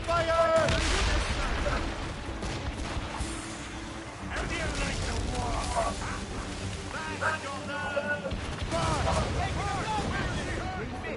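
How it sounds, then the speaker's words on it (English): Cannon fire from a naval battle against a fort in Assassin's Creed Rogue, with repeated booming shots layered under battle noise and shouted voices throughout. "Incoming fire! Cannon ready! Fire!"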